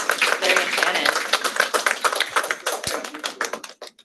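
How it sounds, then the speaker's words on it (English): An audience at a university talk on child trauma treatment applauds: brisk, crisp claps that thin out and taper off toward the end. "Let's give a round of applause to Larry and Shannon."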